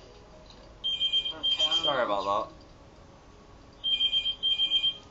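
A mobile phone alarm goes off in two bursts of rapid repeating electronic beeps, close and loud, with a person speaking briefly between them.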